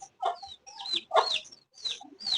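Chickens clucking near a rooster with two chicks, short bursts of soft clucks and high peeping calls coming in uneven clusters, close and fairly quiet, with no talking.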